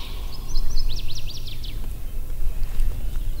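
Northern waterthrush singing in a bog in Minnesota's Sax Zim Bog, a loud ringing series of bright repeated notes delivered in a quick run, with a second faint phrase later over low wind rumble.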